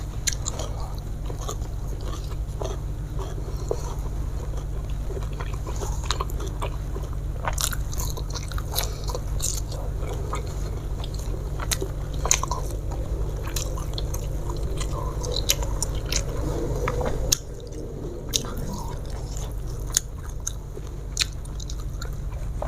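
Someone eats fried fish with freshly made sambal and raw young jengkol beans, biting and chewing up close with moist crunches and soft squishy mouth sounds repeating irregularly over a low steady background hum.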